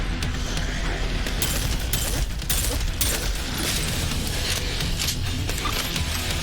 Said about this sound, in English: with this shotgun you can fire all 4 barrels separately, or in its alternate mode you can fire all 4 shots in one go